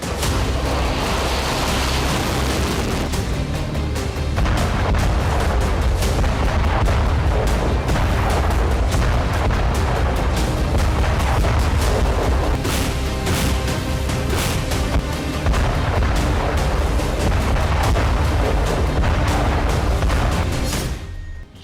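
Cluster bombs in the Ukraine war: a dense, unbroken barrage of explosions, many sharp blasts and crackling bursts overlapping into a loud, rumbling roar, with no voices.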